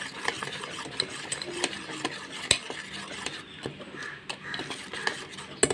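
Semolina cake batter is stirred in a bowl with a utensil, making repeated close scraping and wet slapping strokes in an uneven steady rhythm.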